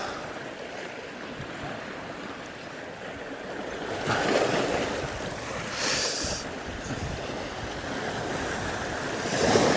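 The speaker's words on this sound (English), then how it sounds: "The wave just kicked up off the rock and given me a proper soaking" Sea waves surge and splash against coastal rocks during saltwater fly fishing for bass, a steady wash of surf with wind noise, swelling into louder bursts of spray midway and near the end.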